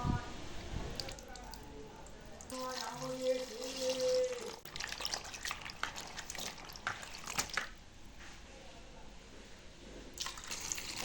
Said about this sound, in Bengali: এবার জল দিয়ে ভালো করে আলুগুলোকে 2 থেকে 3 বার ধুয়ে নেব।